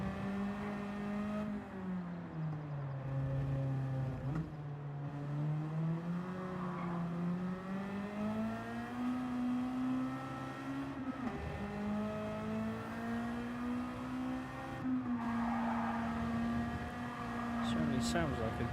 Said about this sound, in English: Certainly sounds like a good old racing car with the engine notes